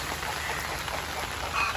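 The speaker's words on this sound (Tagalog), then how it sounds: "Inabot na kami ng ulan." Steady rain patters densely on a surface, a constant close hiss with a faint bird call near the end.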